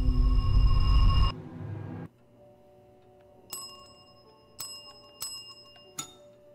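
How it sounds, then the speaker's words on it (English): A bell in the game Erica gets dinged several times, with four bright, short rings spaced about a second apart in a quiet room after a louder opening sound stops. "Oh no! I just wanted to ding the bell!"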